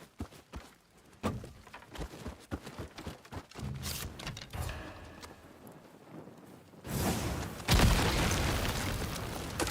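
Scorch bombs explode in Ghost of Yōtei. A few sharp bursts come early, then a heavier rumbling blast swells near the end, mixed with scattered clattering game effects.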